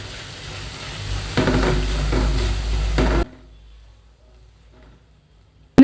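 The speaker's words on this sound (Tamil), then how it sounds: "இதை எண்ணெயில் வந்து நல்லா வதக்கிடலாம்." Ground spices sizzle in hot oil for a beef liver fry while being stirred, a loud frying hiss that cuts off abruptly and leaves near silence before a sharp clatter at the end.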